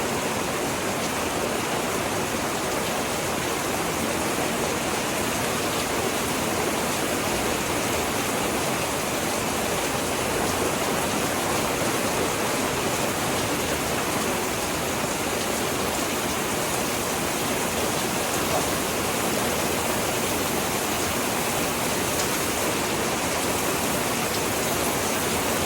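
Heavy rain pours down in Texas at a burger spot with a flat-top grill, a dense, constant hiss of downpour with no pauses, steady and loud throughout.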